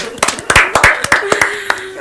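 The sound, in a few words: applause, clapping hands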